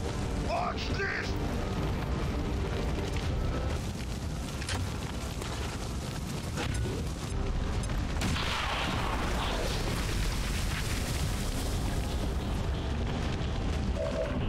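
A dense, rumbling XCOM 2 explosion bursts around the eight-second mark from a thick wash of battle noise, with booming low end and crackling debris, and a voice talks in places over the din.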